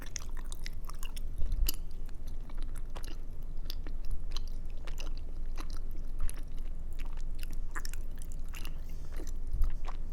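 Someone chews mochi close up, with soft sticky bites and a steady run of quiet, wet mastication sounds and occasional light crunches, with no talking.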